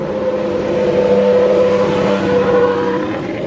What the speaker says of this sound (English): We got some epic Formula One cars coming up the hill as well.